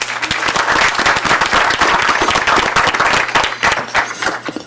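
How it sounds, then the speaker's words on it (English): Loud, sustained applause from an audience at a school district board meeting, dense overlapping claps throughout. "Let's give her a round of applause, everyone."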